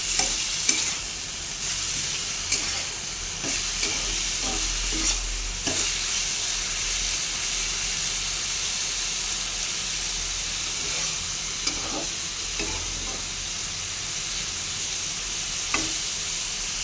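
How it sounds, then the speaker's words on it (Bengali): Spices with a little turmeric frying in a pan, a steady loud sizzle and hiss with scattered stirring scrapes and clinks of the spatula throughout, no voices. "একটু হলুদ দিয়ে দেবো, একটু ভালো করে নেড়ে দেবো"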